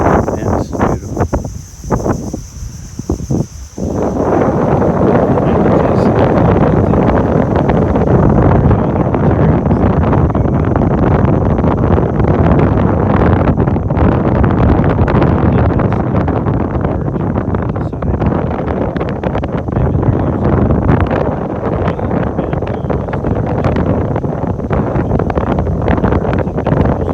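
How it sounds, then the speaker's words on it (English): Strong seaside wind in Bohol pounds the microphone with a loud, continuous roaring rumble. It begins briefly uneven, then holds a dense steady blast throughout. "It gives you an idea how much the wind's blowing."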